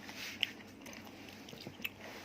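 Crunchy baked vegetable chips, including banana, purple sweet potato and carrot, bitten and chewed up close, with faint crisp crunches and two sharper bite snaps over a quiet, soft chewing background.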